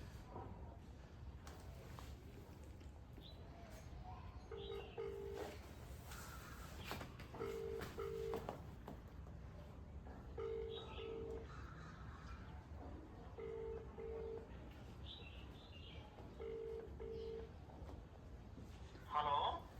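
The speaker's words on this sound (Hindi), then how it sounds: "दोबारा फ़ोन मिलाते हैं भाई," Short beeps come in evenly spaced pairs as a phone number is dialed on a phone, repeated several times over a faint background murmur.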